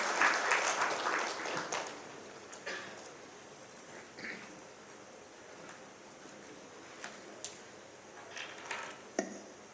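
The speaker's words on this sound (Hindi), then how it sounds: "आप सभी से गुजारिश है कि जोरदार तालियों से स्वागत करें" An audience at the inaugural session of a Rajasthan business event welcomes a speaker with applause, a burst of clapping that is strongest at first and then dies away into scattered claps and faint room noise.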